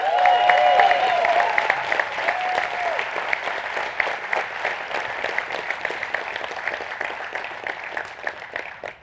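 An audience at a live company call claps for a husband and wife brought up front, the crowded applause loud at first over a brief musical tone, then thinning into scattered claps.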